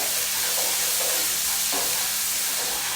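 Turmeric, salt and spices being stirred together in a pan, a steady close sizzle with soft scraping strokes running through it and no voices.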